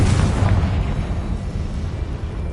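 A Confringo spell explodes in the video game Hogwarts Legacy with a loud, deep, booming blast whose rumble slowly fades away.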